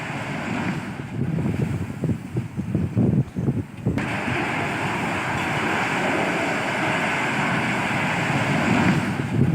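Floodwater from the Shivnath River rushes in a broad, continuous roar, with choppy, uneven surges in the first few seconds that then settle into a steady, loud wash with wind buffeting.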